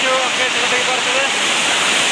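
Waterfall at Bari roars as a loud, dense, continuous rush of falling water, close by and steady throughout with no break.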